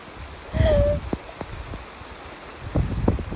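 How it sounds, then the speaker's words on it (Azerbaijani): Steady heavy rain patters down with a soft, continuous hiss and scattered droplet taps, fairly quiet and with no one speaking. "dəhşət dərəcədə güclü yağış başladı"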